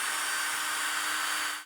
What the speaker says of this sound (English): I can turn it upside down and drill through it